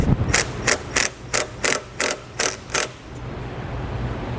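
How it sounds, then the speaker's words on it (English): A ratchet with a 5/16 socket tightening a clamp during a trailer brake controller installation, eight quick, sharp clicking bursts in an even rhythm, close and loud, then fading into quiet room hiss. "Then we'll take a 5/16 socket, we'll tighten that down."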